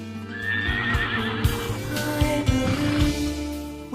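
A gypsy vanner horse gives a loud, close whinny that rises and wavers, with hooves clip-clopping and thudding underneath for several seconds.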